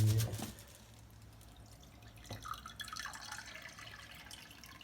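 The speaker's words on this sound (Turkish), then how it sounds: "Su döküyorum." Water is poured at home while making coffee, a faint trickling and splashing that begins after a short thump and runs quietly through the remaining seconds.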